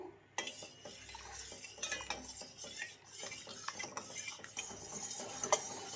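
Sugar mixture being stirred in a pot for a Sankranti sakkare acchu sweet, giving steady close scraping and clinking of a utensil against metal with no talk.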